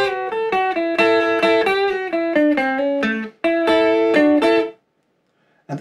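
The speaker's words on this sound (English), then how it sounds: "I play both these notes with upstrokes and then a quick move with the Bigsby" Rockabilly electric guitar lick on a guitar with a Bigsby vibrato: fast bright picked notes and double stops with wavering pitch, played alone and ending abruptly.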